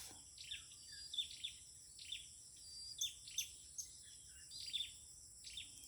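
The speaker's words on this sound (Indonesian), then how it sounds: "kelaparan ini burung di sini guys" A hungry red-breasted bird calls near a trap, giving repeated sharp, high chirps at irregular intervals, faint and somewhat distant over a quiet outdoor backdrop with a steady insect-like hiss.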